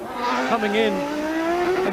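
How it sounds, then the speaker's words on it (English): Ayrton Senna's misfiring Formula 1 car at the Phoenix US Grand Prix, loud engine note rising and dipping with pops and bangs, a commentator's voice running underneath. "It does appear to have some form of misfire. Yes, you can hear it again. It's popping and banging a lot, isn't it?"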